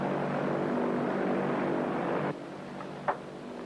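A steady, loud droning hum of a propeller airplane in flight, heard from inside the cabin, dropping abruptly to a quieter level partway through, with a brief click near the end.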